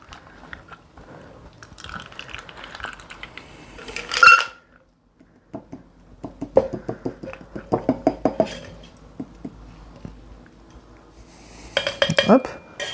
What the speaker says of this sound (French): vous venez prendre votre passoire à glace, toujours votre passoire à zeste, et vous venez verser ça dans votre cocktail